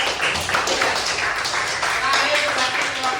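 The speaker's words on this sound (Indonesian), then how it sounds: "Tepuk tangan untuk kelompok" Students in a classroom clap for a group during a coding and computational thinking lesson, a short burst of scattered hand claps with voices over it.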